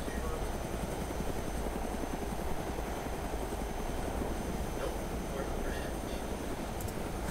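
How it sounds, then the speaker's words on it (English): A helicopter flies in the video game Arma 2 Wasteland with a steady, loud rotor and engine drone that holds throughout, and talk runs over it. "Basically, we were in a helicopter, and we got chased down by an Osprey gunner"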